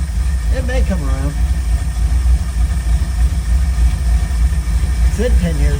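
A Ford Falcon Club Wagon engine, flooded and due for a carburetor overhaul, idles steadily with a low rumble on its first start in ten years, while people talk briefly over it.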